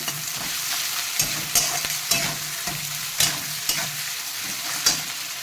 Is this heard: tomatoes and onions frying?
yes